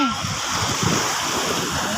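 Sea waves wash onto a beach and drag back out, a continuous close surf rush with wind buffeting the microphone, rising and falling softly in level.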